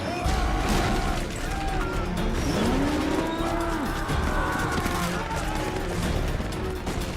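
Loud, drawn-out bovine moos from a mechanical walker in Metal Gear Solid 4 rise and fall in sliding tones, repeated over a dense rumble of battle and machinery.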